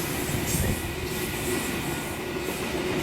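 NSW TrainLink V set eight-car passenger train passing at Koolewong station, a continuous rumble of wheels on rails with metallic squealing and clatter, close and steady.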